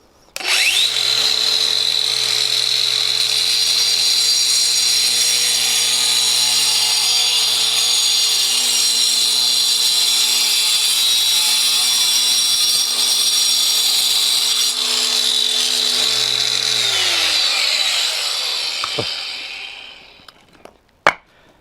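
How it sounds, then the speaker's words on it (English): DeWalt DCG405FN-XJ angle grinder sawing through a blue brick, a loud, close, sustained high whine with gritty cutting noise that holds steady for about seventeen seconds, then winds down as the motor spins to a stop. "One blue brick, sawn in half."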